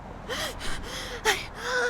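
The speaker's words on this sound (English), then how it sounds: "breaks away and gasps for air" A young woman in an audio drama gasps for air after downing a drink as fast as she can, a rapid series of four or five sharp, breathy gasps close to the microphone.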